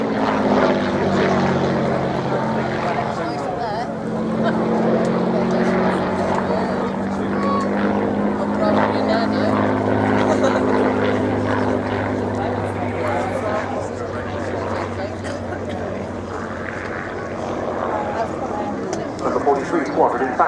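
A 1930s Hawker Fury biplane flies a display at an airshow, its propeller engine droning steadily and loudly throughout with a shifting pitch as it passes, while a voice talks over it.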